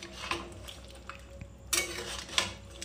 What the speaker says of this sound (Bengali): এবার এটা একটু নাড়িয়ে দেবো যেন নুনটা সব জায়গায় মিশে যাক।